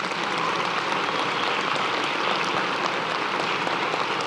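Steady, dense applause from an audience at a school board meeting honoring event winners, a continuous wash of clapping that holds evenly loud for the whole stretch with no pauses.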